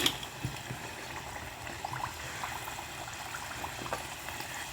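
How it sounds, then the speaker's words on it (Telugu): Oil in a pan on a low flame bubbles and crackles steadily while something fries, a dense fizzing with small irregular pops throughout, close and fairly quiet, with no one speaking. "ఆయిల్ ఎక్కువ మరగకుండా చూసుకోవాలి."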